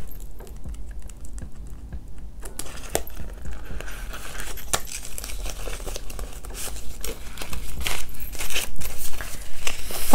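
Paper cash bills rustle and crinkle as they are handled and pushed into a paper envelope, close-up crisp shuffling that grows denser and louder toward the end.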